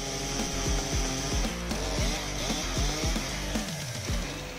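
Big chainsaw, such as a Stihl MS 880 or Husqvarna 3120XP, cutting through giant logs of tough wood. The engine roars loud and steady, and the pitch keeps dipping and recovering as the chain bites into the wood.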